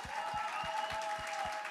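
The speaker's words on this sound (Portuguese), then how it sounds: "Um forte aplauso a las mamás" Church congregation applauding the mothers, faint rhythmic clapping with soft hand strikes at a steady pace beneath a sustained tone and distant room sound.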